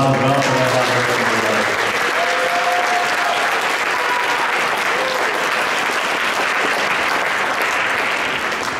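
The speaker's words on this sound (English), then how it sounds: "let's give them a round of applause as well for their hard work" An audience at a science fair awards ceremony gives the finalists a long round of applause. The clapping is steady and full, with music or a voice briefly audible at the start before the applause carries on alone.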